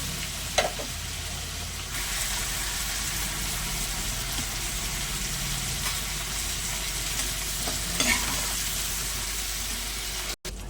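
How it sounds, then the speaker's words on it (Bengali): Shrimp fry in oil with a constant moderate sizzle and hiss, a few spatula knocks and stirring scrapes breaking through, ending in a brief cutoff. "মাছগুলো আমার ভাজা হয়ে গেছে এবার আমি তুলে নেব খুব কড়া করে ভাজবো না"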